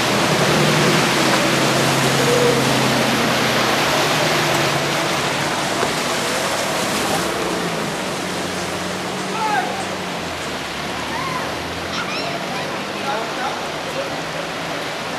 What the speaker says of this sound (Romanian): De fiecare dată ne confruntăm cu apa asta pe stradă.